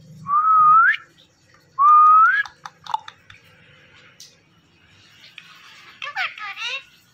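An Indian Ringneck parrot whistles two clear rising notes up close, followed by scattered clicks, chirps and softer chattering calls, with quiet room sounds underneath.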